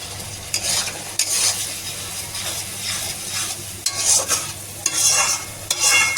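Spices stir-fried over a high gas flame, a dense crackling sizzle with irregular scraping strokes of a spoon against the pan, close and steady, no voices.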